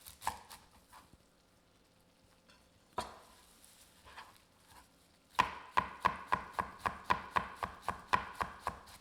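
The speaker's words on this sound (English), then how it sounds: "I'm gonna chop up some fresh parsley here." A knife chops fresh parsley on a board, a few scattered strokes at first, then a fast, even run of crisp, close chops near the end.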